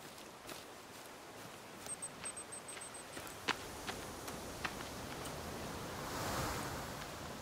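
Soft, steady wash of waves on a shore in the video game The Forest, faint and continuous, with a few light taps and a gentle swell toward the end.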